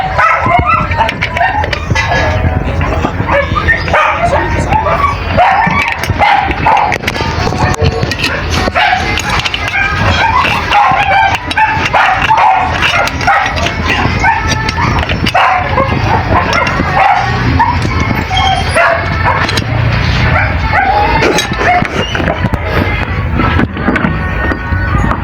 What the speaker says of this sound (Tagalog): So pasensya na kayo kaya may mga aso naman dito.